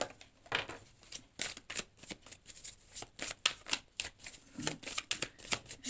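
Tarot cards are shuffled and drawn by hand in quick bursts of riffling and crisp slaps, close and fairly soft, in an uneven rhythm with short pauses.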